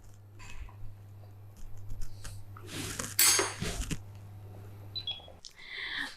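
Thai soup being ladled into bowls, with soft clinks and taps of dishes and utensils, faint and intermittent against a low steady hum, with a brighter clatter partway through.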